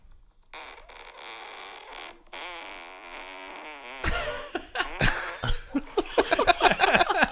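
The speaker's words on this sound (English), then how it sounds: "that is about a 7 or 8 second fart" A long recorded fart is played back, a drawn-out buzzy rasp of roughly seven seconds. It gives way to people laughing loudly in the background.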